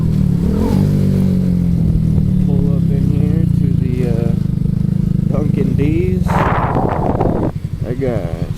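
A vehicle pulls in quickly near a Dunkin' in El Paso, its engine humming steadily and fairly close before easing off, while a person talks over it.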